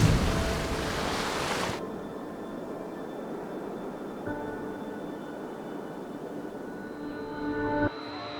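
Steady rush of Atlantic Ocean surf rolling in, broad and continuous, with a brief louder wash at the start and faint engine-like hum underneath.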